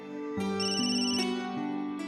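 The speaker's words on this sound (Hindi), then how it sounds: "डॉक्टर का फोन है" A telephone ringtone ringing at a doctor's call, a loud electronic melody of repeating tones, close and alone without talk.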